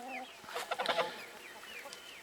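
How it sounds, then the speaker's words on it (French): Pet hens cluck and chirp close by in a garden on a frosty early morning, a busy flurry of short calls over soft outdoor background noise, with no talking. "Les petites poules qui sont là."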